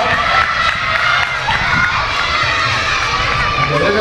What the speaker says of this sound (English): The little Zenith Mites are cheering on their fellow athlete in this event